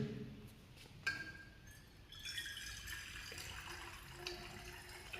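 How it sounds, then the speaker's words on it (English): Distilled water is poured into soil samples in a laboratory, with a trickling stream, small glassy clinks and a brief sharp knock, close and fairly quiet. "So we will add 200 ml of distilled water."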